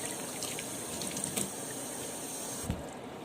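Cherry tomatoes rinsed under a running kitchen tap, a steady close hiss of water splashing into a sink that continues throughout with a few brief clatters.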